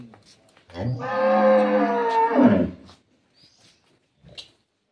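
A young dairy cow that has just calved moos for her calf: one long, loud, close moo lasting about two seconds, followed by faint background sounds.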